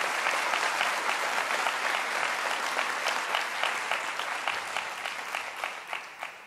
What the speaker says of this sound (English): another round of applause for the new Vice-Chancellor.